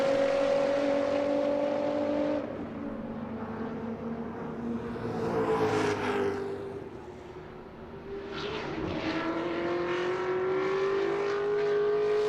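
A time attack race car lapping Road Atlanta, its engine note rising and falling as it passes, with a fading doppler sweep midway and renewed acceleration afterward, distant and without talk.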